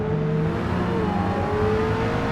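Mazda MX5 Rocket Bunny engine in the racing game Forza Motorsport, a steady revving drone with a slowly bending pitch, alone with no talk.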